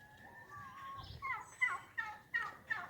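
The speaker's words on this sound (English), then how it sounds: "This goes to some turkeys I've kept up here" Several turkeys gobble in short rattling bursts, repeating every half second or so, fairly close, with a faint whistle-like call before them.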